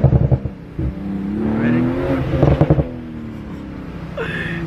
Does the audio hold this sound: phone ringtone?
no